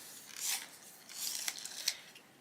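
A colouring pencil is sharpened close by, making soft scraping, rasping bursts that come in a few short, faint strokes.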